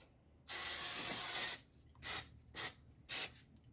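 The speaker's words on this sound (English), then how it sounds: "Spray on the chicken nuggets." Cooking oil sprayed onto chicken nuggets in a pan: one long hiss of about a second, followed by three short bursts, close and fairly loud, with no talking.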